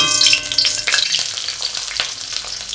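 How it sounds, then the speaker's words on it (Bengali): Onions drop into hot oil and fry with a loud, steady close sizzle, broken by a few stirring scrapes of a utensil in the pan. "তেল গরম হয়ে গেছে, এবার আমি পেঁয়াজ দিয়ে দেব।"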